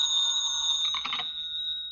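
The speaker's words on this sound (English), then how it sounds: "Wouldn't want to lay a little bet why this phone's ringing at this time of night, would you?" A telephone rings in a late-night office setting, one sustained bright electric ring lasting about two seconds, loud and alone without voices.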